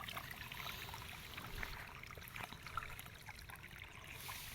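Irrigation water flows through an onion field outdoors as a faint, steady trickling and gurgling, continuous and low in level, with no talking.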